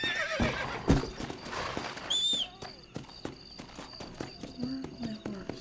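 A horse in Red Dead Redemption gives a sharp whinny, and its hooves clip-clop in a steady walking rhythm amid game ambience, with a brief higher cry partway through.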